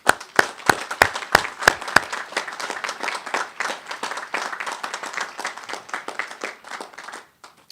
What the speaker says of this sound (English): we ought to give them a round of applause for doing that